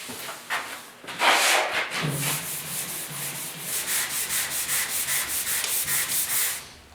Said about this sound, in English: This glaze really quite simple to sand. I'm just using the block with the 320